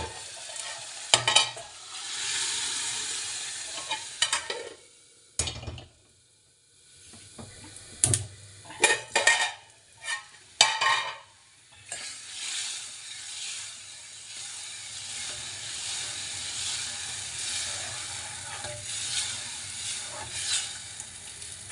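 Spice tempering sizzles in hot oil in a pan while being stirred. Loud crackling bursts and scraping are broken by short quiet gaps before a steady hiss settles in.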